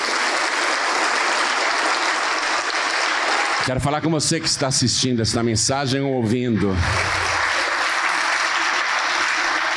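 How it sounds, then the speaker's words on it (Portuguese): Audience applause at a church service, a dense sustained wash that fills the clip, with someone speaking loudly over the middle section. "Vamos aplaudir mais, está chegando mais."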